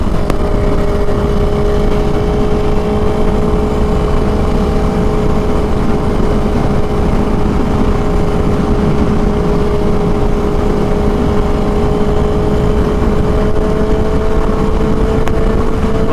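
A 2021 Harley-Davidson Iron 883 cruising on a windy highway, its engine droning at a steady pitch under heavy, continuous wind roar, loud and unbroken.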